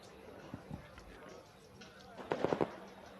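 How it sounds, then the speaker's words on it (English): Fireworks pop and crackle in the background at a karting track during a race event, a soft burst early on, then a quick cluster of louder bangs near the end over steady ambient noise. "The fireworks in the background."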